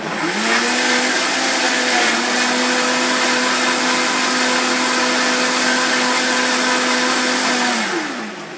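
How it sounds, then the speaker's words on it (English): A Vitamix blender whirs loud and close through sweet potato and red pepper soup, a steady high motor whine that holds for several seconds and then winds down near the end. "with the Vitamix, once everything's blended up"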